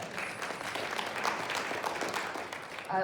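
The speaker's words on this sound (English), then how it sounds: "Pause for applause" An audience applauds at a town hall meeting, the clapping faint and distant but steady for about three seconds, with a slight swell near the end.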